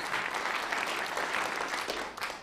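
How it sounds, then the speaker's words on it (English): A luncheon audience at the National Press Club gives a sustained round of applause. The clapping is broad and even throughout, fairly distant and moderately quiet, and tapers slightly at the end. "They deserve a round of applause"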